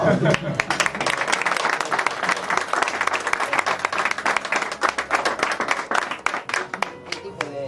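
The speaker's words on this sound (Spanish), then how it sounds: "un aplauso para él" Applause for a painter at the presentation of the art book "Ekún" by Francesc Hidalgo, with dense, crisp clapping from a modest audience that rises quickly and holds steady, then thins toward the end, with some voices underneath.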